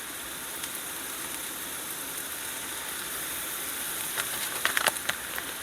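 Ground hamburger meat and onions frying together in a pan for chili, a steady, fairly loud sizzle and hiss with a few sharper crackles near the end.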